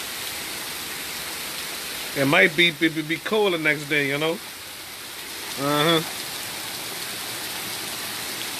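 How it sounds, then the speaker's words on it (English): Heavy rain pours steadily in a broad, even hiss throughout, while someone talks briefly over it in the middle of the downpour. "It's just heavy rain, that's all."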